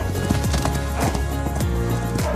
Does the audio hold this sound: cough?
no